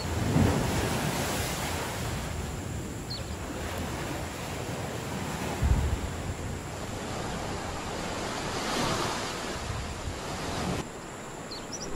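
Ocean waves wash steadily against a desert island shore, a broad continuous roar of surf mixed with wind buffeting the microphone, at moderate level for about twelve seconds with no voices.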